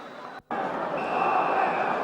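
A 38,000-strong football crowd at White Hart Lane applauds Dave Mackay during Spurs v Derby. The applause forms a dense, continuous wash of distant noise, briefly dropping out at the start before resuming steadily.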